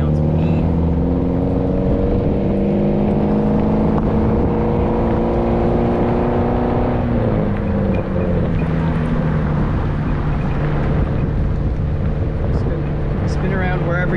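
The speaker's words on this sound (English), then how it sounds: "car sounds mean." A Mitsubishi Lancer Evolution X engine runs steadily and loudly, its tone rising and falling through revs with wind buffeting the microphone throughout.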